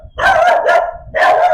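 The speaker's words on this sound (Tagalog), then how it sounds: "Ingay ng aso." A dog barks close by, three loud, rapid barks in quick succession.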